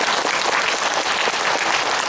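Sustained, dense applause from a lecture audience thanking a professor after his talk on North Korea; loud, steady clapping fills the whole stretch without a break and with no voices over it.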